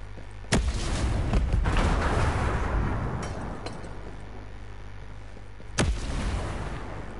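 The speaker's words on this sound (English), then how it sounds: "Explosion alert." Two heavy booms go off in a military shooter game, one near the start and one near the end, each leaving a rumbling tail over a low steady background.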